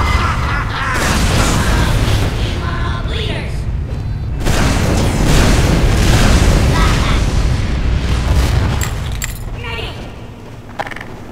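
Heavy explosions and grinding mechanical creaks roar continuously as automated sentry guns are destroyed in Team Fortress 2, loud and dense, with voices talking underneath.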